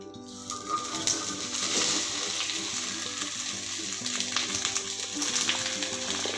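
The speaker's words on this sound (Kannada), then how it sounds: "ಚೆನ್ನಾಗಿ ಫ್ರೈ ಆಗಲಿ ಬಾಣಲೆ ಸ್ವಲ್ಪ ದಪ್ಪದ ಇಟ್ಕೊಳ್ಳಿಪ್ಪ" Fresh okra fries in a thick pan with a little oil, giving a steady, close sizzle with soft crackles that runs throughout, alongside a faint tonal hum in the background.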